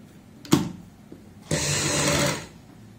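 A sewing machine stitches pintucks on a neckline. A sharp tap comes first, then a short knock, then a steady fast whirring run of about a second that stops abruptly.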